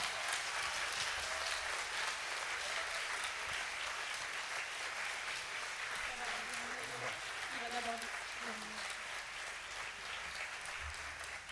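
An audience applauds the first winner announced at the "Make the Choice" awards finale, a long steady patter of many hands that runs throughout, faint and distant, with a few voices briefly heard beneath it.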